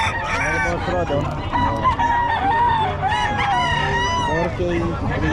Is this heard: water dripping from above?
no